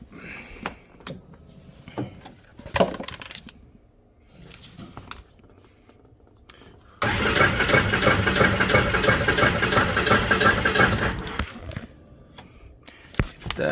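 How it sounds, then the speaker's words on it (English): A 2008 Polaris RZR 800 with low compression cranks over without starting: scattered clicks and knocks, then a loud, continuous whirring crank of about four seconds that stops, followed by more faint clunks. "Let's crank over real quick. Let's just see what she does."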